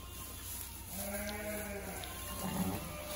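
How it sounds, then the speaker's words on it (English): Sheep bleat in a barn holding six rams and thirty ewes, with a couple of drawn-out, fairly clear calls over a steady background hum. "So we have six rams in here with 30 ewes."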